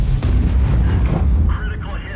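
A tank's high-explosive round goes off with a heavy, booming blast in World of Tanks, a loud rumbling burst that fills the whole moment before tapering into softer battle noise.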